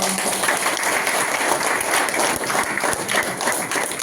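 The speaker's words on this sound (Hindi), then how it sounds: "उनके लिए जोरदार तालियां।" A seminar audience at a business event breaks into loud, dense applause that holds steady for several seconds, close and full with no voices over it.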